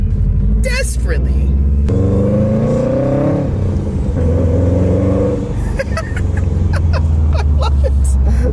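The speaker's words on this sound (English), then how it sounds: "Look at that little teeny turbo spool!" A Subaru WRX engine pulls hard nearby, rising in pitch with a whistling turbo spool, then sharp crackling exhaust pops, while excited voices shout over it.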